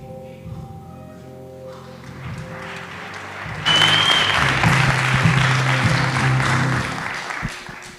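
Summit audience in Chicago bursting into sustained applause that swells and holds for several seconds, following a quieter stretch with a voice and background sound.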